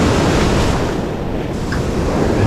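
Waves break on the Black Sea shore near Ormanlı, a continuous close roar of surf mixed with wind buffeting the microphone, steady and loud throughout with no voices.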